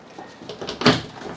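RV shower doors in a 2023 Sunset Trail 253RB travel trailer being latched: a single short plastic click and knock, close and moderately loud, with faint rustling around it.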